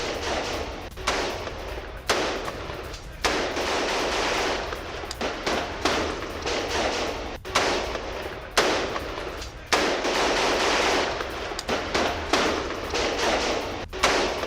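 Heavy sustained gunfire during an Israeli ground operation in Khan Younis, dense loud bursts of shots and thuds running almost continuously with brief gaps, close and harsh.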